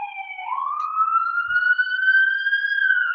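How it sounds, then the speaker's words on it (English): A fire rescue emergency vehicle's siren wails loud and close in a continuous rising tone that holds steady for several seconds, with no voices over it. "Oh no, that's a fire. Oh no, that's ambulance. Fire rescue."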